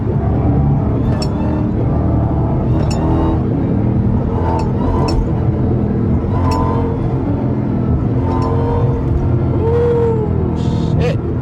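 A Dodge Demon on a late-night highway with its rear differential failing: a loud, continuous low rumble and drivetrain roar, with a faint whine rising and falling near the end.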